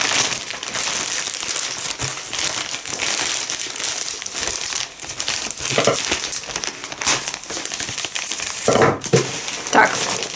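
Packaging from a large parcel crinkles and crumples continuously at close range as it is pulled open, with louder rustling bursts toward the end.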